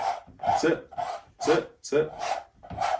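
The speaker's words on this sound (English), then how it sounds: "Try and keep it flat as you scrape." A palette knife scrapes paint across a canvas in a Bob Ross-style landscape painting, making rhythmic rasping strokes about every half second, close and moderately loud.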